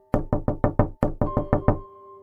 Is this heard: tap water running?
no